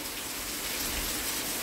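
Steady rain falls outside near a parked new car under a guava tree, a continuous even hiss of drops with no break, moderately loud and with no voices.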